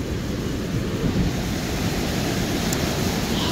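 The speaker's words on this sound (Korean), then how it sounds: "저 바깥쪽 바다 그 파도 높이 치는 거 보면은 아우 아찔할 정도로 사이즈가 높아요" Heavy surf at My Khe beach in Da Nang, a steady loud roar of breaking ocean waves with wind rumble across the microphone, continuous and close with no talk.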